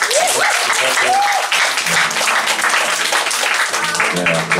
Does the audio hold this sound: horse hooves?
no